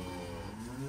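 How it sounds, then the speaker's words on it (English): Cattle being vaccinated on a farm give a single drawn-out moo, low and sustained with a slight rise at the end, heard alone at moderate distance. "Now we're just on vaccinating cattle."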